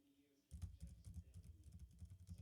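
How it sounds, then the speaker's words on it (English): Fingers tap rapidly across a laptop keyboard, a quick irregular run of soft close clicks that starts abruptly after a brief quiet moment. "So basically, I'm here typing things like I often do."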